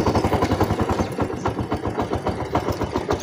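A motorcycle engine idles close by after starting, its steady low putter throbbing in quick, even pulses with no talk over it.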